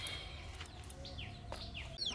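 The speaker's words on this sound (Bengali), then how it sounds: "এই দেখো আমাদের মুরগি, গলা ছোলা মুরগি আর তার দুটো বাচ্চা।" A naked-neck hen clucks softly near her two chicks, which give thin high peeps, all faint over a low background hum.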